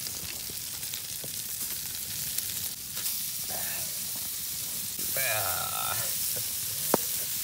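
A slab of food hits a hot pan in a snow shelter during a blizzard, frying with a steady low sizzle and hiss that swells louder partway through, with a few stirring scrapes and a sharp click near the end.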